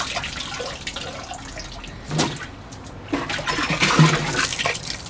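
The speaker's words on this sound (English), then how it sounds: "Then a good wash in the clean water." Water sloshes and splashes as items are scrubbed and rinsed, with irregular swishing and a few louder splashes.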